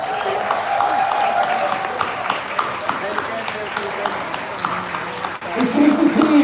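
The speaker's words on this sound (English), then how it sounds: "massive round of applause?" Massive round of applause from an audience at a Southeast Asia event, steady clapping filling the whole stretch with a brief dip near the end before swelling again, with some voices mixed in.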